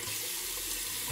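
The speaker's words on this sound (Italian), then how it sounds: "facciamo ancora un po' d'acqua" Tap water runs steadily into a sink during a wet shave with a Colonial Razor safety razor, a continuous close hiss heard alone with no talk.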